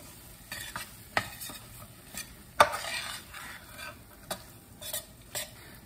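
Bacon cooking in a pot for New England clam chowder, a quiet sizzle broken by occasional utensil scrapes and clinks against the pot, no voices.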